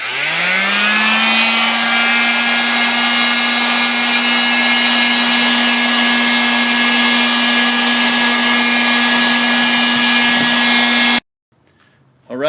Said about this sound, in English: now I'm going to sand all of the edges